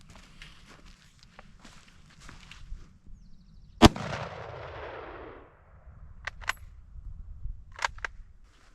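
A single sharp, loud rifle shot from a Kar 98 firing 8mm soft point hunting rounds outdoors, with a long rolling echo. Scattered footsteps and handling clicks come before and after the shot.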